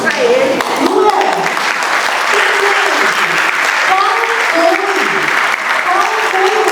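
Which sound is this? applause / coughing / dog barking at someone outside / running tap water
applause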